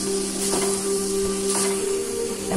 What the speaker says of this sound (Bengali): তিন মিনিট ভাজার পর মাংস ঢেলে দিলাম